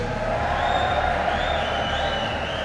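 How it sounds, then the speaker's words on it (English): A crowd at a Phageborn card game tournament semifinal match cheers in a sustained, excited roar, loud and continuous, with a faint whistle-like tone drifting above it. "Crowd's really excited about this next play."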